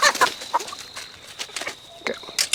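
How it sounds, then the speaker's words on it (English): Chickens cluck and squawk nearby on a farm, short bursty calls in an irregular rhythm, with a person's voice briefly mixed in. "Should we get these chickens first?"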